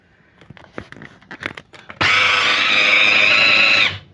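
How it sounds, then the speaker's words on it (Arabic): A food processor bowl loaded with rice kofta mixture bursts into loud, steady whirring as the motor starts, after some brief clatter of handling; the grinding runs evenly for about two seconds before stopping. "حطيتها في الكبة زي ما انتم شايفين اهو، وهضربها بقى"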